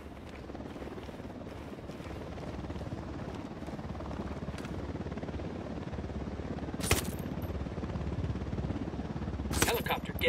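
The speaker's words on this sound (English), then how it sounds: "Chopper inbound." Helicopter in Ghost Recon Wildlands, a constant close rotor drone that persists throughout, overlaid by sharp bursts of gunfire and voices in the game.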